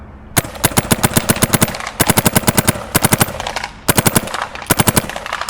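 A Mini GS paintball gun fires rapid bursts of shots in four quick strings, each a crisp, loud volley of pops with short pauses between them, and no voices are heard.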